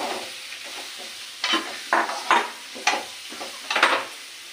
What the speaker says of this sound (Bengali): এবারে আলুগুলো দিয়ে এর সাথে কষিয়ে নেব।